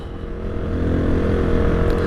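A Hero XPulse 200 4V motorcycle engine drones steadily while riding through mountain desert terrain in Spiti, a continuous low rumble with wind noise that swells slightly, no talking.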